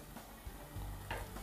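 Pumpkin fritters frying in a pan, a soft steady sizzle with a few faint scrapes as they are turned, close and quiet.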